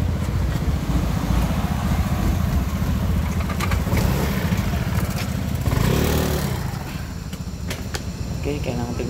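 A motorbike rolls through an underpass beneath an elevated railway in Shulin, New Taipei, its engine a steady, fairly close drone that swells briefly around the middle, with a person talking over it.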